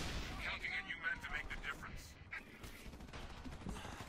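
Gunfire in the video game Frontlines Fuel of War, with scattered shots and distant blasts rattling faintly through a busy battle mix, no clear words heard.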